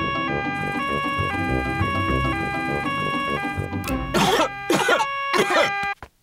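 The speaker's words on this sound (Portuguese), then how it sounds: "Todos os adultos estão com a tosse do Pedro." Adult cartoon characters coughing and clearing their throats in Peppa Pig, first over a jingly musical tune, then three loud harsh coughs in a row before a sudden cutoff.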